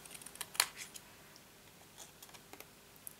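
Scissors cut through card to form a mitre at a box corner: one crisp, close snip followed by a few faint small clicks and rustles in an otherwise quiet room.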